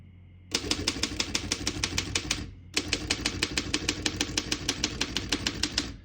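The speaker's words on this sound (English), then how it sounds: "We're going to keep that on single and finish typing." Rapid, even clacking of a 1917 Underwood No. 5 manual typewriter close up, two bursts of steady keystrokes separated by a brief pause.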